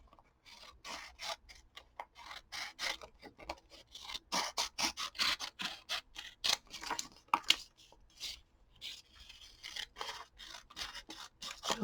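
Scissors snip through paper in a quick run of sharp, crisp cuts, close and fairly loud with no one speaking, while white edges are trimmed off a statue picture cut from a magazine for collage fodder.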